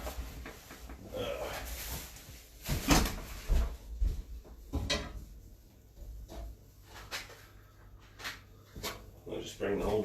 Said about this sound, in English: I'll just bring the whole drawer over here.